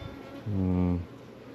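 A single honey bee at a backyard hive passes close by with a brief, loud droning buzz lasting about half a second against quiet background.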